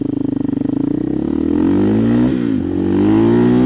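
KTM EXC-F 500 motorcycle with an FMF muffler pulling away from a stop, loud and close, its idle thumping quickly rising into a strong revving climb, a brief shift dip, then a sustained high engine note.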